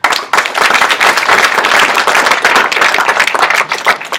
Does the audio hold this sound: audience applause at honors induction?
yes